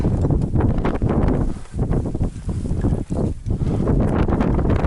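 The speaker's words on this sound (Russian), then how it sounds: "Ветер так и не прекратился" Strong mountain wind high on Mont Blanc near an old hut, roaring and buffeting the microphone in loud gusts with brief dips, continuous throughout with no talk.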